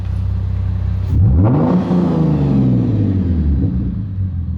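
A Lexus IS350 V6 engine revving from idle up to about 4,000 RPM, a loud close rumble that climbs sharply in pitch, holds, then winds back down toward a steady idle.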